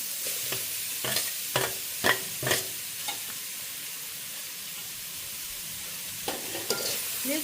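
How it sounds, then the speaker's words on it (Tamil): Chopped leeks and carrot sauté in a hot pan under a continuous soft sizzle, broken by a few sharp, close scraping stirs in quick bursts. No talking. "லீக்ஸு வதங்கி கொண்டு வேற நல்ல வாசமாக இருக்குது."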